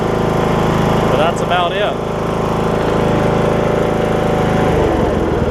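An MTD Craftsman riding mower engine runs steadily at close range with a constant throbbing drone. Someone speaks briefly over it near the start.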